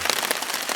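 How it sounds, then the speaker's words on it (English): Rain falls steadily in Glacier National Park during a cold July backpacking trip, a dense, even hiss of drops striking surfaces close by, continuous and moderately loud with no voices. "it's pretty rainy"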